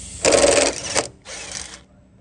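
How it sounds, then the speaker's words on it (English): A power driver spins off the 8mm latch bolts on a Honda Element in two close, buzzing whirs, the first longer and louder, the second shorter, with no talking. "So we're gonna take these two bolts off first."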